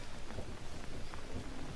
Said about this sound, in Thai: ฝนดันตกนะครับ